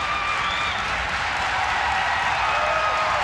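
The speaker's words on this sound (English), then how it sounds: "The crowd is into the game." A basketball arena crowd at an NC State vs Duke game keeps up a continuous, even wash of cheering and applause, loud and unbroken for the whole short stretch.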